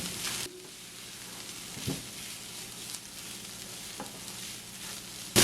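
Banana blossom stir-frying in a pan over medium heat, a steady low sizzle running throughout with a few soft stirring scrapes and clinks, close and alone with no talk.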